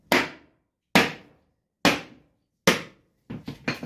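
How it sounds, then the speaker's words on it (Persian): A hammer strikes ceramic tile laid over a waterproofed roof surface, four sharp separate blows followed by two quicker lighter knocks, close and loud with no talking. "با چکش سرامیک رو میشکنیم"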